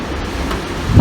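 Strong wind buffets outdoors at a pellet-shooting range, a steady broad rushing noise with a heavier low gust swelling at the end.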